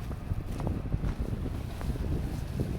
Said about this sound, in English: The wind has come up quite drastically since I first started out.